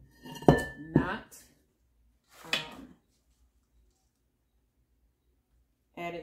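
Eggnog rum cake batter is spooned into cake pans, giving a few sharp metallic clinks and scrapes of utensil against pan separated by quiet pauses.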